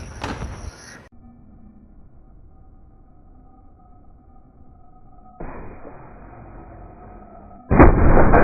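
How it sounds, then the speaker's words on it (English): Mortar fire in a video game: a sharp, loud burst opens, then a quiet stretch with a faint whistle-like tone, then a steadier rumble before another loud, booming impact at the end. "That's why I hate the mortar."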